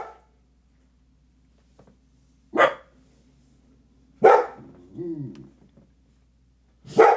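A puppy barks in short, loud, close yaps spaced a couple of seconds apart, four in all, with a brief whine between two of them, over near silence.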